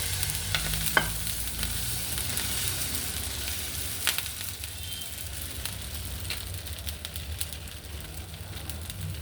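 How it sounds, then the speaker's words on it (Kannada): Dosa batter sizzles on a hot pan while a crisp masala dosa cooks, giving a steady, close broadband hiss with a few sharp crackles and scrapes throughout. "ಈಗ ಒಂದೇ ಒಂದು ಸ್ವಲ್ಪ ಹಿಟ್ಟು ಹಾಕಬೇಕು, ಆವಾಗ ದೋಸೆ ಗರಿ ಹಾಕಿ ಬರುತ್ತೆ"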